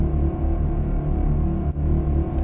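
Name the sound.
granulized pad sound without distortion or EQ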